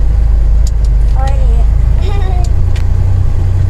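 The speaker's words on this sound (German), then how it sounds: "Wir fahren durch Lava durch." A 4x4 motorhome drives off-road across lava terrain near Mount Etna in Sicily, its engine rumbling loud and close throughout while a child's and an adult's voices call out over the noise.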